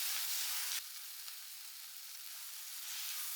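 Spiced masala with garam masala, chilli powder and green chilli sizzles steadily in a pan for chicken curry, a continuous hissing fry with a brief stirring scrape near the start, close and without talk.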